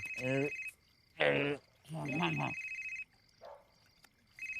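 A telephone rings in repeated electronic bursts while people talk loudly nearby, their voices overlapping the ringing.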